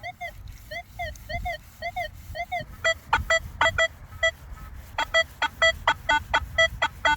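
Metal detector tones from a Nokta Legend or Minelab Manticore while treasure hunting, first a run of repeated warbling chirps, then sharper clipped beeps in quick irregular bursts over low handling rumble.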